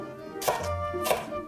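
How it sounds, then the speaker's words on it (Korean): A kitchen knife julienning a deseeded vegetable into 3 mm strips lands two crisp, separate strikes on a cutting board about half a second apart, close and clear over a quiet background. "3mm 두께로 채 썰어주세요."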